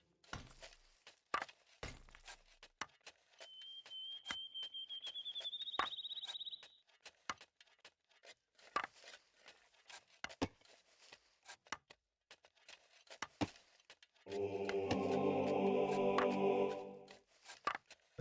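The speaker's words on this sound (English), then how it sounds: "Clicking buildings, hearing like a little sound play." Short clicks and chimes from Age of Empires: Definitive Edition as buildings are selected, with a rising tone mid-clip and a dense, loud building sound near the end, no talking.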